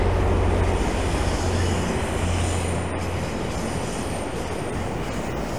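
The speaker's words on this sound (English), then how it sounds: "Another train coming in" Commuter train rolling past on a downtown Toronto rail line, a steady loud rumble and rush of wheels on track that gradually eases, heard from nearby outdoors with no talking.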